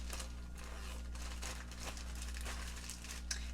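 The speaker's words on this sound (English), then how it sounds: "put this back in this Ziploc bag" A plastic Ziploc bag crinkles faintly in a quiet kitchen, soft scattered rustles and crackles spread over a few seconds above a low steady hum.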